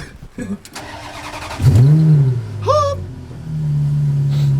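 A straight-piped Ferrari F430 fires up with a sharp whirring crank, then settles into a loud, rising and falling idle burble close by, with a voice talking over it.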